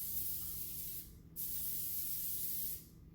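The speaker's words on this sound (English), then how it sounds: "I'm gonna go spray this. Hang on. Just make sure it doesn't stick." Cooking spray hisses onto a cookie sheet in two close, steady bursts, the second longer than the first, with a brief pause between them and nothing else heard.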